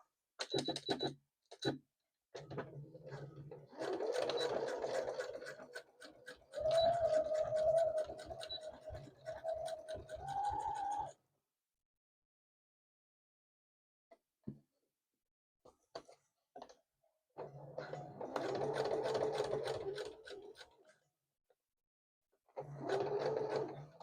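A domestic sewing machine stitching back and forth in reverse to secure a seam on a halter tie top, running in bursts of steady mechanical whirring with pauses and short stops between passes.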